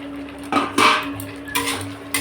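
Potatoes and paneer tip into a pan of hot oil for a vegetarian curry, a few clattering, sizzling bursts rising over a faint steady background hum.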